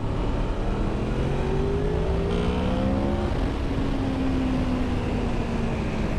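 A 2004 Honda VFR 800 motorcycle accelerates hard in second gear, its engine note climbing steadily in pitch, then dropping at a shift before pulling up again, loud and close with no talk over it.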